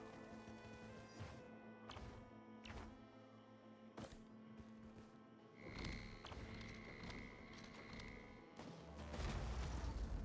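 Missiles striking targets in Risk of Rain 2 give a run of soft thuds and thumps, a few spaced impacts early on, then a busier stretch with a sustained tonal whine and a heavier low rumble toward the end.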